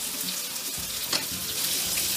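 Pork browning in a frying pan gives a steady, loud sizzle and crackle, briefly broken as the meat is turned, with no voices.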